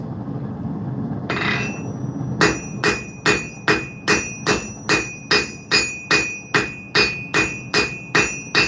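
Hammer blows on hot metal at a forge ring out in a steady rhythm, about a dozen sharp metallic strikes a little under half a second apart, near and loud after a quieter start.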